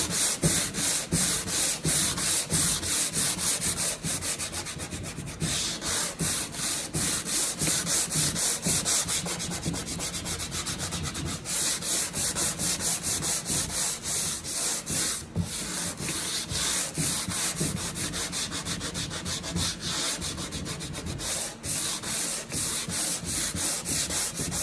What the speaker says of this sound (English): take a sanding block, hand sand this part out that I just finished sanding with the orbital